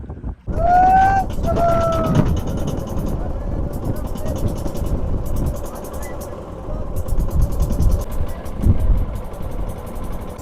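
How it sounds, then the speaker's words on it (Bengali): A motorboat engine runs steadily on the Chinai river, a continuous close drone with wind buffeting the microphone and a brief whine as it starts up. "এখন কিন্তু আমরা নৌকা স্টার্ট দিয়ে দিয়েছি, নৌকা কিন্তু চলছে চিনাই নদী থেকে"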